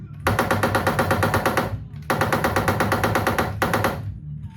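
Rapid mechanical gunfire bursts from a Jurassic Park Edition BarTopShooter Deluxe arcade light gun with recoil enabled, three sustained rattling volleys with brief pauses between, loud and close, the recoil solenoid's clatter woven into the shots.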